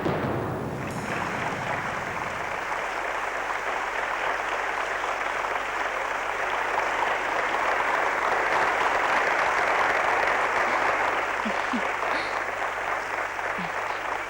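Sustained applause from an audience at the end of a staged contest in a horror drama, a dense steady wash of clapping that fills the whole stretch with no voices.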